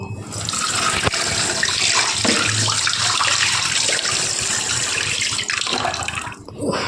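Tap water runs steadily into a kitchen sink while a pot used for cooking instant noodles is being washed, a continuous close splashing rush that carries on without pause for the whole stretch.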